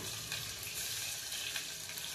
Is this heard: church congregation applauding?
no